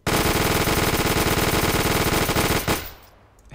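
Video game machine gun firing a continuous rapid burst of about 50 rounds at around 1200 rounds per minute, loud and dense for nearly three seconds before cutting off into a fading echo.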